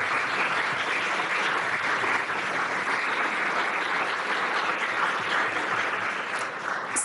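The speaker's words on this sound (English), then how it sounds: "Please give them applause here." Audience applause for the presenters at a county officials' criminal justice and behavioral health conference session, a steady, dense clapping that fills the room and holds at an even level throughout.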